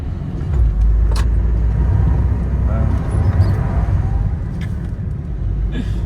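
A Renault Clio 3 Initial Paris on new tyres accelerates, heard from inside as a steady low engine and road rumble that holds throughout, with faint rattles and occasional voices in the cabin.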